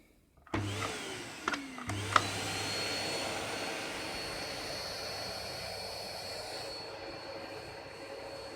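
A Rowenta Silence Force vacuum cleaner starts with a few clicks and a quick surge, then settles into a steady, moderately loud whooshing drone that holds for several seconds, heard alone with no talking.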